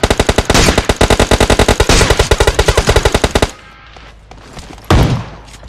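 Rapid automatic gunfire from PUBG Mobile, loud and close, with a dense burst of shots for about three and a half seconds, then a short pause and a single heavy blast near the end.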